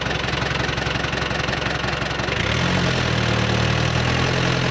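A Yanmar 45 hp farm tractor diesel engine idles with a rapid knocking chug, then is revved up about halfway through into a louder, higher, steady roar.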